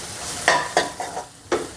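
Asafoetida goes into a pan of softened tomatoes for barnyard millet upma: a quiet sizzle with a few sharp scraping stirs of a spoon against the pan, spaced irregularly, close up.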